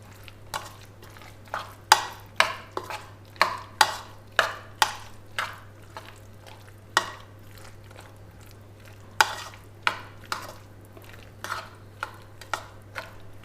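Chicken sandwich filling being stirred with mayonnaise in a bowl, a close run of sharp spoon scrapes and clicks, some louder than others, coming in uneven bursts with no talking.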